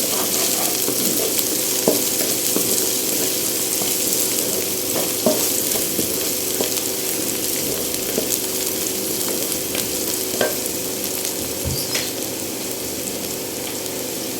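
Whole spices and black peppercorns frying in hot oil in a pan, a steady close sizzle with occasional pops and crackles throughout.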